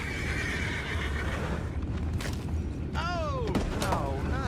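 Horses neigh in the video game Red Dead Redemption 2, a loud whinny with falling pitch rising over steady ambient noise, with clip-clopping and outdoor game sounds around it.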